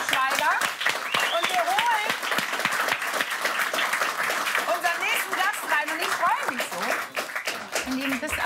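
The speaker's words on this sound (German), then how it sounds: "Also ich sage Applaus für Honig im Kopf" A television talk-show studio audience gives loud, dense applause for a film and its star throughout, with voices talking and exclaiming over the clapping.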